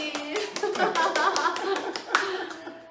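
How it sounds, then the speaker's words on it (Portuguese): Church congregation clapping for their pastor at a service, a scattered patter of hands with distinct individual claps over a murmur of voices and brief talk. "Pode aplaudir aí."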